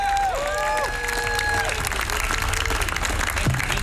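An audience at a Hands Off Assange event applauds and cheers for a speaker being introduced, giving steady, full clapping with a few rising whoops and whistles near the start.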